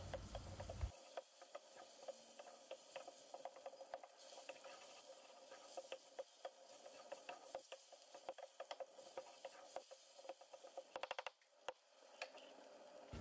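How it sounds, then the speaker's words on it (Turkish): Onions and small diced potato sauté in a pan for a vegetable soup, with a steady close sizzle and repeated scraping stirs, plus a brief clatter near the end. "bir küçük patatesi şöyle minik minik küpler halinde doğradım ve birlikte kavurma işlemine devam edelim"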